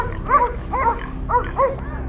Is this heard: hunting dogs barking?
yes